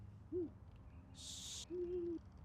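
An owl in the video game Anna's Quest gives two clear, soft hoots with a pause between them, and a brief hiss cuts in during the pause. The background is otherwise quiet, with no talk.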